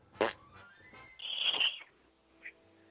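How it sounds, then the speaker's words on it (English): A fart sounds in an indoor setting: a short sharp burst, then a squeaky, tonal, drawn-out blast, followed by a brief faint squeak, close and fairly loud with no talking. "I keep farting."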